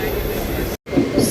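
Crowded carriage of a Janshatabdi Express in motion, giving a steady low rumble with a murmur of voices and a brief dropout partway through.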